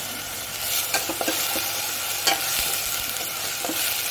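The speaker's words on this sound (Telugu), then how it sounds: "టమాటా పేస్ట్ కూడా తీసుకున్నాను ఈ రెండు కలిపి వేగాలి బాగా" Tomato paste mixture fries and is stirred in a pan for Andhra-style mutton paya. A steady close sizzle runs throughout, broken by scraping stirring strokes, with no talking.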